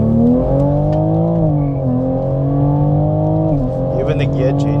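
A tuned Toyota Supra's engine drones loudly and close, its tone holding steady with small rises and dips in pitch as revs shift, as heard from a running car.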